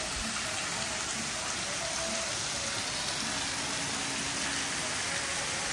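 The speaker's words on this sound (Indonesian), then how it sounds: "ada juga air yang ngalir dari bagian atap ya, sehingga kesannya jadi kayak hujan gitu" Water pours off a waterpark roof over a children's pool area, a dense, steady hiss like heavy rain drumming on a surface, loud and unbroken from start to finish.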